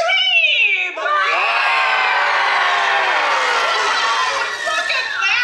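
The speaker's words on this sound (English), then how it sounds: "And then everyone would scream!" An audience screaming at a Monsters, Inc.-themed show at Magic Kingdom, a loud sustained chorus of high-pitched shrieks from many voices, mostly children, that rises and holds for several seconds.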